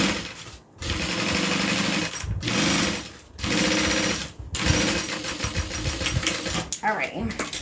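A domestic sewing machine top-stitches a bag in fast whirring bursts, separated by brief pauses and ending in lighter, choppier stitching, with a voice heard at times.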